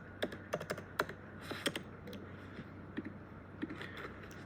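Quick, light keystrokes on a computer keyboard, irregular clusters of crisp taps with short gaps, faint and close over a steady low background hum, with no voices.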